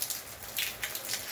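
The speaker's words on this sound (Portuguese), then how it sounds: "tá caindo a chuva em Cachoeira dos Índios," Light, fine rain falling in Cachoeira dos Índios, Paraíba, on an overcast morning, a soft steady patter with a few brighter splashes, quiet and without voices.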